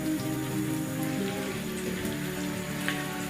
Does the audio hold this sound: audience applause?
no